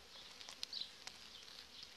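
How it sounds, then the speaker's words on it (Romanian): Honey bees buzzing at an opened overwintered hive colony, a steady close hum with brief louder passes from individual bees near the listener, no voices. "albinuții stau foarte frumos"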